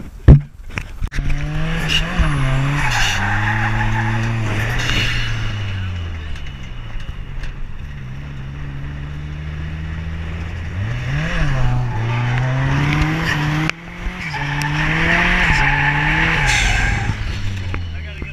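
A boosted 410 hp Nissan S13 skids with long, wavering tire squeals rising and falling over a revving engine, loud and sustained, with brief breaks between slides.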